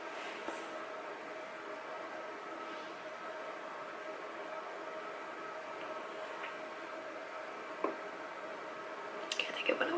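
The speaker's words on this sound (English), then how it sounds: "There's a train passing." A steady low rumble and hiss of a train passing in the distance, with faint clatter near the end.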